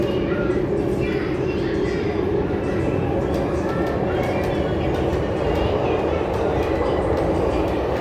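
MTR C-Train running on the West Rail Line (Tuen Ma Line) between Hung Hom and Nam Cheong, heard from inside as a steady, loud rolling rumble with broad rail and wheel noise that holds for the whole stretch.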